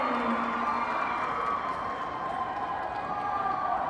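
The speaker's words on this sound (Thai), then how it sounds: "ขอเสียงปรบมือให้กับผู้ชนะทีมเอฟเอสอีกครั้งหนึ่ง" A crowd applauds and cheers for the winning club team at a trophy presentation in Vientiane, a steady dense wash of clapping and shouts that holds at an even level throughout.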